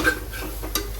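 A spoon stirs dal khichadi ingredients in a pot, producing a quiet, close scraping and sizzling with a couple of brief sharper clinks, and no talking.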